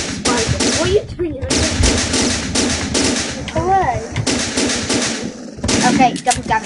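Rapid bursts of machine-gun-style gunfire from the Boxhead 2Play video game rattle almost continuously, loud and close, with voices talking over the shooting.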